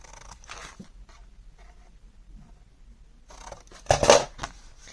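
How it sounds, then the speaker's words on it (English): Scissors snip at an angle through the corners of 6x6 craft paper, a few quiet cuts followed by one louder, crisp crunching snip near the end, alone in a quiet room. "I'm going to cut these corners off, angle cut these corners off so that it can create a pocket for me"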